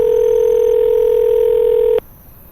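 A steady telephone dial tone hums loudly for about two seconds, then cuts off abruptly, leaving faint background noise.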